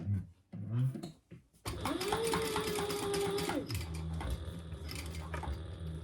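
A sewing machine runs in a steady close whir while stitching the ends of a fabric bag an eighth of an inch from the edge, after a few brief ticks and mechanism clicks, with a faint voice at the start.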